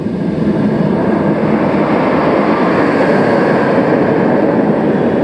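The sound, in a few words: B&M floorless roller coaster train roar, Firebird at Six Flags America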